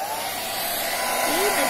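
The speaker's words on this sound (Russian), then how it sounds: "Вам нужен фен. Вы включаете его на максимальную тройку горячую." A hair dryer runs at its hottest maximum setting, giving a steady, loud, continuous whoosh with no breaks, close to the microphone.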